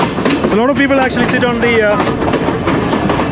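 A scenic passenger train runs through foggy Sri Lankan hill country with a steady rumbling rattle and rhythmic clacking, while a person talks over the noise.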